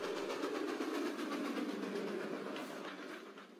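A train running on its tracks in a rural Bengal setting, a steady rumbling rattle with a faint rhythmic clatter that fades a little toward the end, heard alone.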